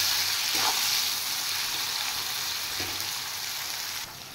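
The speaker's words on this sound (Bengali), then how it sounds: "পেঁয়াজটা ফ্রাই করে নেব।" Chopped onion sizzles steadily in hot oil in a pan, a loud, close, continuous frying hiss with a couple of faint stirring scrapes and no talking.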